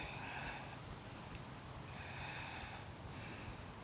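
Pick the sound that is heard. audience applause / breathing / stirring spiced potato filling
breathing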